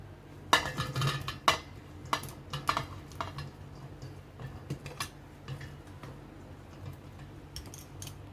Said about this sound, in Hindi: अब हमने जो आम को नमक हल्दी में कोट करके रखा हुआ था ना, उसे इसमें ऐड कर देंगे।